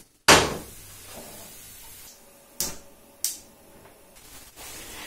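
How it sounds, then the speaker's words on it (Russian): A pot of meat broth is set back on the stove with one sharp, loud clunk, followed by two lighter knocks of metal and some faint handling sounds. "И снова ставим на огонь."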